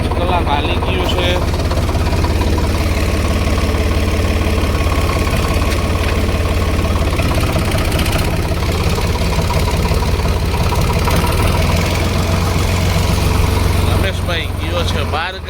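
A diesel tractor engine with about 1405 running hours idles loud and close, a steady low rumble running unbroken through the whole stretch.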